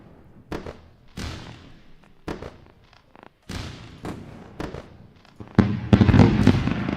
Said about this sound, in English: Let's go with the fireworks.